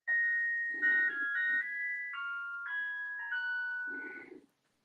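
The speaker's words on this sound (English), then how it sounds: "One of my wife's Christmas decorations is a Christmas clock, and it chimes a different Christmas song each hour" A Christmas clock chimes a Christmas song, a sequence of clear melodic tones heard alone for several seconds before fading.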